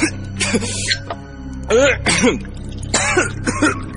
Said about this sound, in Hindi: जैसे जैसे उसकी खांसी बढ़ने लगी